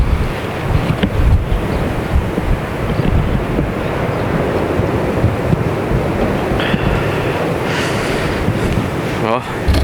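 Strong wind buffets an outdoor microphone beside a swampy site with an old 1988 Renault Trafic van, a loud continuous rumbling roar with gusts throughout and brief voices.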